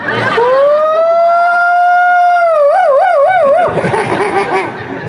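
A loud siren wail, one long sustained rising tone that breaks into a rapid wavering yelp before cutting off.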